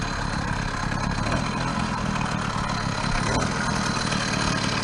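A motorcycle engine idles unevenly while still not fully warmed up, with its choke pushed partway down. A steady, close mid-pitched rumble carries on throughout, with no speech.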